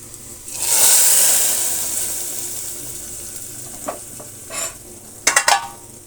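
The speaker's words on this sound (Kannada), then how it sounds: "ಒಗ್ಗರಣೆನ ಅದರೊಳಕ್ಕೆ ಬಿಡೋಣ." Hot tempering poured into horse gram sprout sambar gives a loud hiss that swells at once and slowly fades, followed by a few brief clinks and spoon scrapes near the end.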